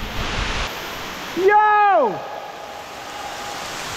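A powerful waterfall near a cave rushes with a steady, close broadband roar, and someone shouts once briefly over it.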